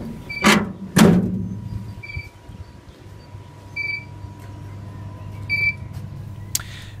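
A metal firebox door on a Central Boiler E-Classic 3200 biomass boiler slams shut twice in quick succession with loud near clunks, followed by a few quiet electronic beeps and a low hum.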